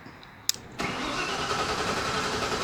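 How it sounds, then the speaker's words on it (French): Electric scooter, a 2024 G2 Pro, being powered on: a short sharp click, then a steady broadband hum with no voices. "Pour commencer, on va allumer la trottinette."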